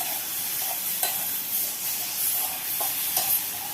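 Mushrooms and prawns frying lightly in a pan with a little turmeric, a soft steady sizzle with a few faint stirring taps, close and alone.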